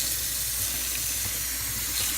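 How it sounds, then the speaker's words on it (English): Water runs steadily from a tap over cactus nopales being drained and rinsed in a kitchen sink, a constant close hiss without pauses. "so now I'm draining the cacti nopales."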